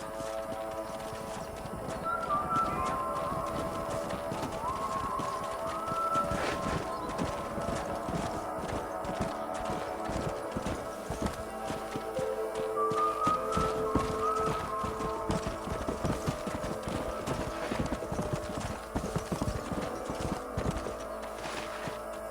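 Horses trot with steady clip-clop hoofbeats in the video game Red Dead Redemption, over a continuous backdrop of ambient music and noise, with an occasional whinny; no one speaks.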